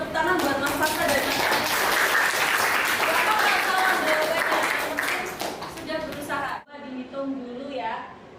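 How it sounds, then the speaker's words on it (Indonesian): Classroom audience applauding two students in a mathematics lesson, loud sustained clapping for about six seconds that cuts off abruptly, followed by quieter room noise with faint voices. "Kita beri tepuk tangan buat Mas Fakta dan Mas Radi"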